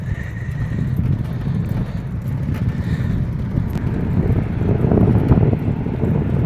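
Cold morning wind buffeting a microphone outdoors, a continuous low rumbling roar that swells slightly toward the end, with no talking.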